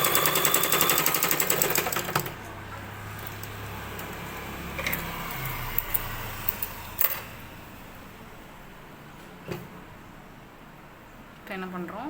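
A sewing machine runs in a steady rapid whir while stitching blouse cloth pieces together, then stops, leaving scattered clicks and handling noises, with no voice heard.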